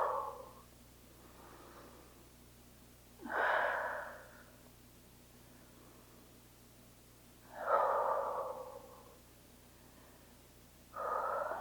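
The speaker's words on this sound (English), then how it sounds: "And let's just breathe." Slow, deep breaths during a thread-the-needle yoga stretch, cheek resting on the mat: three audible exhalations about four seconds apart, close and fairly quiet over a low steady hum, with no talking.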